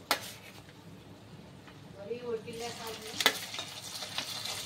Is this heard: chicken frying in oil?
yes